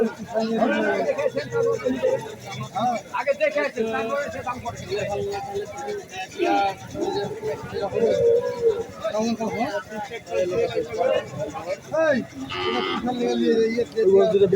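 Cattle low and moo repeatedly at a busy cattle market, several calls rising over constant crowd chatter and people talking nearby.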